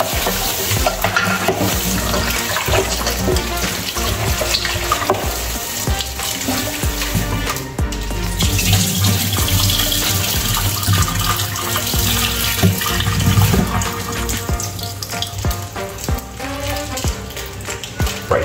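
Curry goat meat rinsed in water for a second time during outdoor coal pot cooking: continuous loud splashing, sloshing and running water with handling noises throughout, close by and without talk.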